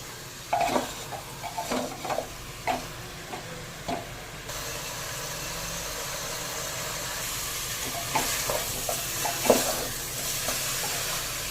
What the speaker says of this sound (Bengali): নেড়ে চিকেনটার সাথে ভালো করে একটু মিশিয়ে নেব।